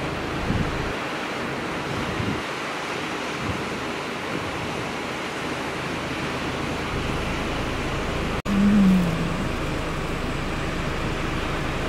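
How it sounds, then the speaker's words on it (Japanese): Surf breaking at Kisakihama beach, a steady, full roar of waves that runs unbroken through the whole clip, with a brief bump of wind buffeting the microphone near the end. "トイレ前左側もインサイドで割れる厳しいブレイクです。"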